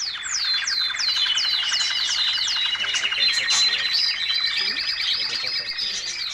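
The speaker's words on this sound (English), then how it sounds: "Those are birds." Small birds chirp and tweet continuously in a steady, busy chorus of rapid repeated high calls, fairly close and loud, with no talking.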